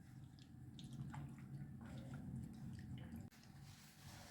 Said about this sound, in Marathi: पाणी टाकून पनीर धुवून घ्यायचं आहे